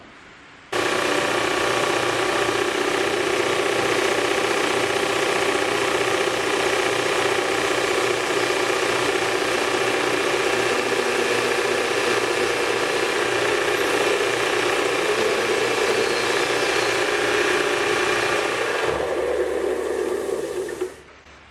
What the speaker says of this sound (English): Now I'm going to turn the sander on. It's going to get loud, but not for very long